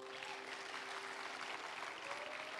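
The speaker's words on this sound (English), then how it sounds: "Stand to your feet and clap your hands as we welcome Bishop Eddy Addy." Church congregation standing and clapping to welcome a bishop at an evening service, a steady wash of crowd applause heard from a distance at low level, with a faint sustained tone running underneath.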